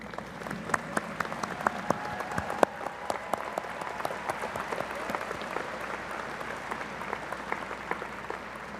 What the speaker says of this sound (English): please join me in recognizing them with a round of applause